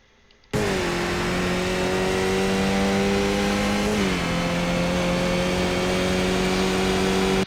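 Skip Barber race car engine in iRacing at the Nürburgring, revving steadily and loudly up through the gears, with a brief dip in pitch at a gear change before it climbs again into fourth, with no talk.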